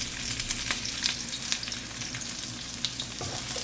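Galunggong adobo sizzles and fries in a pan while being stirred, a continuous crackling hiss with scraping and clinking stir strokes close up, no talking.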